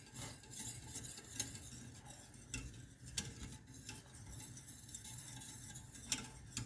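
Coffee cream cooking in a pot while being stirred, with faint soft scrapes and occasional light clinks of a spoon over a low background.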